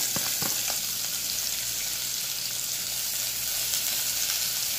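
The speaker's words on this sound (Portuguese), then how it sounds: "Aqui, coloquei um azeite para esquentar, já está quente. Vamos jogar a cebola." Sliced onion rings hitting hot olive oil in a pan, a loud continuous hiss of frying with a few quick clatters at the start, then an even sizzle throughout, no voices.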